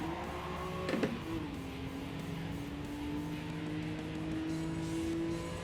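Nissan 350Z racing in Gran Turismo 7, its steady engine drone holding a sustained pitch throughout, with a brief tire squeal or gear-shift burst near the start and faint rival cars around it.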